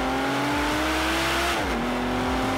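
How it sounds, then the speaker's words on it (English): A 2016 Aston Martin Rapide S V12 revs steadily with a loud, rich, sustained engine note, its pitch rising gently and then briefly dropping and recovering, with no voices over it. "if there's one thing we've certainly come to love from the Aston Martin, it's that V12 soundtrack"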